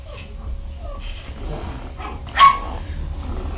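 Puppies bark, yip and growl softly while playing together nearby, with one sharp louder bark standing out among quieter whimpers over an indoor background.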